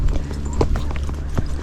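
A Tennessee Walking Horse paces downhill on a trail, its hooves falling in a quick, uneven clip-clop close by, the steps loud against steady outdoor noise.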